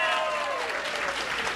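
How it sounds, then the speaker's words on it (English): A live audience at a wrestling podcast taping in Cleveland claps for the show's guests, a steady wash of applause that fills the short stretch from start to finish while a voice carries faintly over it. "Let's give a big round of applause to our guests and people helping out."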